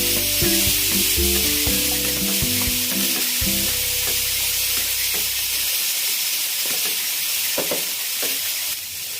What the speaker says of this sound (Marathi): आता हे स्वीट कॉर्न ह्याच्यात टाकूयात आपण आता हे सगळं एकत्र मिक्स करून घ्यायचं